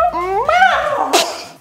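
A person imitates a cat with a drawn-out, rising and falling meow-like whine, ending in a short breathy hiss, brief and close.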